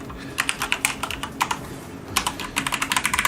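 Rapid bursts of keystrokes on a computer keyboard, close and crisp, in two clusters separated by a brief pause, with no talking over them.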